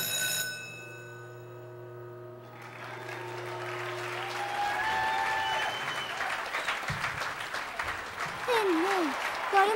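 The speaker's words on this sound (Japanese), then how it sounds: "誰も拍手してないのに。" Applause from an unseen audience at a staged magic-show setting in an animated series, a steady wash of many hands clapping that swells after a few seconds beneath a sustained tone, continuing loudly throughout.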